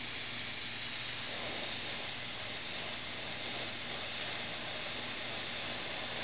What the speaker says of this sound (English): make sure that you've got a nice even flow from your airbrush